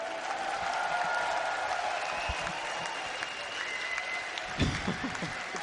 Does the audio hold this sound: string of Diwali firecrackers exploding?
no